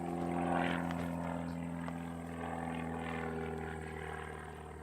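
An aerobatic propeller airplane flies a freestyle competition routine at a national aerobatics championship, its engine a steady, moderately loud drone that holds continuously throughout, with no voices.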